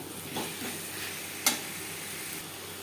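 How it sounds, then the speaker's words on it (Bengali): Potatoes and spices are stirred in a frying pan, a continuous close sizzle with occasional scraping strokes and one sharp clink of the utensil. "আলু বেশ ভালো করে মিক্স করে দেবো।"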